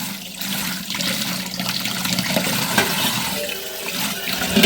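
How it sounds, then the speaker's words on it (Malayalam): Running tap water gushes and splashes continuously while a cooking pot is rinsed in a home kitchen sink, a close, fairly loud watery rush. "ഇനി ആ ഒരു പാത്രം കഴുകാണ്ട്"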